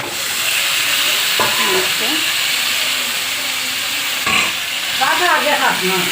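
Spiced chicken meat hitting a hot pan for a Sunday chicken curry, a loud, steady sizzle with bursts of stirring and scraping against the pan.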